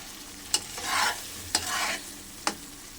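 Spices fry in oil in a pan for a phasa fish curry with eggplant, with three sharp spoon knocks on the pan about a second apart, each followed by a swelling scrape-and-sizzle as the mixture is stirred.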